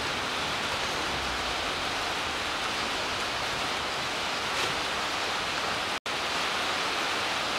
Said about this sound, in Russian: На улице дождик разошелся.